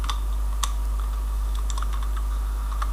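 A few scattered, light clicks of typing on a computer keyboard during a PHP coding lesson, faint and irregular over a steady low hum.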